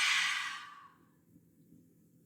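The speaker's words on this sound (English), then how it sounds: "Exhale out of the mouth." A single breath exhaled out through the mouth during a guided yoga session, a soft airy whoosh that fades over about a second, followed by near silence.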